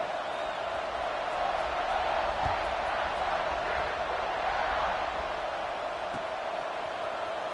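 Steady roar of a stadium crowd in the College Football 26 video game, a dense, continuous wash of cheering noise holding at an even level throughout with no distinct voices.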